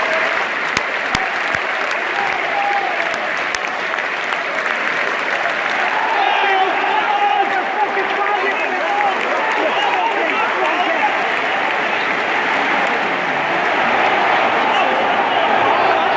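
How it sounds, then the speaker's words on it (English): A full football stadium crowd applauds together at a Manchester City versus Everton match, both sets of fans standing; dense, loud, sustained clapping fills the whole stretch with a roaring crowd bed. "So the whole stadium's clapping."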